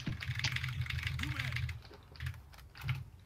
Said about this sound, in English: what is that typing?